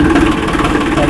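A 2003 Farmtrac Champion 35 tractor engine runs in top gear, a loud, steady low diesel drone with even throbbing and no pauses, heard close up.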